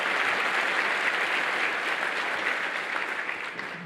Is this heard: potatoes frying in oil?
no